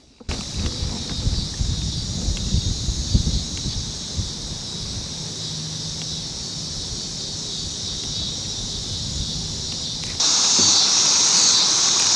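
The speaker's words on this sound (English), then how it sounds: "all I can hear is wind, bugs, and water" Outdoors on the Missouri River near a town, a steady hiss of wind and insect buzz with low rumbling water and handling noise, the high insect tone growing louder near the end, with no talking.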